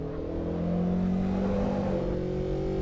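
A road car's engine drones steadily in the Assetto Corsa EVO racing sim, a loud continuous tone holding near-constant revs with slight pitch drift and no talk over it.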